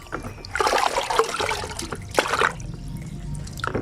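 Salted water being stirred and poured into bathing basins for pigeons, heard as close sloshing and splashing bursts with trickling in between, then a final splash near the end.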